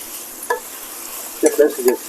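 Brief sizzle from tomatoes, onion and green chillies frying in a pan for dhaba-style chicken curry, with a few short stirring scrapes over a soft background hiss.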